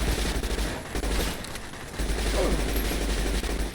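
Gunfire in Fallout New Vegas (video game): dense, continuous bursts of shots and bangs fill the clip, loud and close, with game sounds layered in and no pause between volleys.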